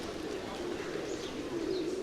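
Pigeons coo softly against a steady background hum on a street in Kathmandu.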